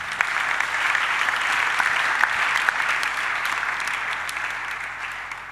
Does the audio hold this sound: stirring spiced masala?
no